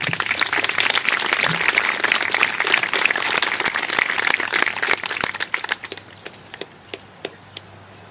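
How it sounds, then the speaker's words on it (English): Dense audience applause at a Memorial Day ceremony, loud and steady for about five seconds, then thinning into a few scattered, separate claps that fade out. "Please give a big round of applause for Captain Fassett."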